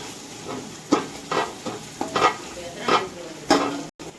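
Green chillies and tomatoes fry in a pan for a mutton biryani masala, with a spoon stirring in repeated scraping strokes over a soft, steady sizzle, close and alone.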